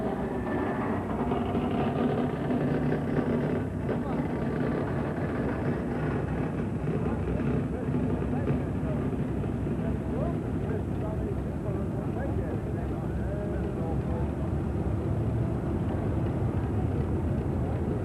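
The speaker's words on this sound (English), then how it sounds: "McCormick Deering, 22 horsepower, steel all the way around." A McCormick Deering 22-horsepower tractor with all-steel wheels runs at a heritage weekend show, giving off a steady low engine drone with faint voices under it.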